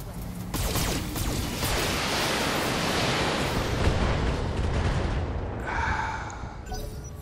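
Mech weapons fire all at once in the BattleTech video game, a dense, roaring wall of explosive blasts and rumbling impacts that holds steady for several seconds before cutting off, with no talk over it.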